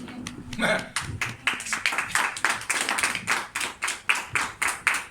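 Church congregation claps in a steady rhythm to acclaim Jesus, with sharp, evenly spaced claps about three per second filling the room, while a voice talks briefly at the start.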